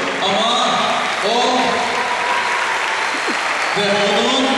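A large crowd applauds in a sustained, dense wash of clapping at an event, with a voice speaking over it throughout.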